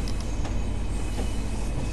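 A Pacer diesel train in Train Sim World 4, running on the line toward Redcar, gives a steady, loud rumble with faint rail clatter throughout, no voices present.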